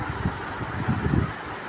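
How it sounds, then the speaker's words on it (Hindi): A ceiling fan runs at full speed with a steady airy whoosh. Under it is a low, gently pulsing rumble as the blades turn, close and continuous, with no voices. "इसमें फुल रफ़्तार है, इसमें हवा बहुत अच्छा आता है"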